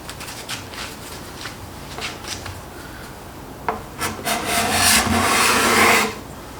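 Card scraper taking wood shavings, a run of short, light scraping strokes that build into a longer, louder rasp near the end, heard close up.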